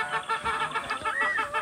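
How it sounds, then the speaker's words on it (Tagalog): A small backyard flock of chickens clucks continuously nearby, with overlapping short, rhythmic calls and a slightly drawn-out cackle in the middle. "Yan ang ating mga manok"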